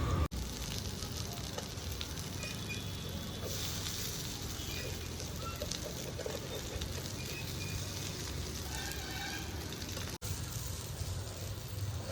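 Vegetable tikka kebabs fry in a little oil on a tawa, giving a continuous soft crackling sizzle, close and fairly quiet, with no talk.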